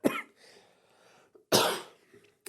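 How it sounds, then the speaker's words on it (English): Two harsh, bursting coughs come from one person close to the microphone, separated by about a second and a half of quiet breathing. "I have this cough that drives me nuts."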